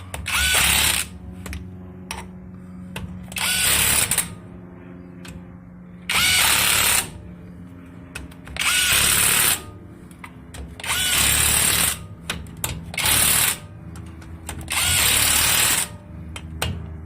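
A power tool set on low runs bolts into a 1990 Ford F150 axle during seal replacement, firing in about seven loud bursts spread evenly with quiet gaps between.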